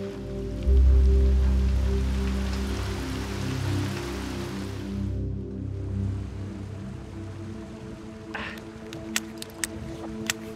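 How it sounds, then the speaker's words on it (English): Rain patters steadily on surfaces at an Arctic riverside campsite, a soft continuous wash under low rumbling, ending in a few sharp nearby taps. "Rain returns as we set up camp."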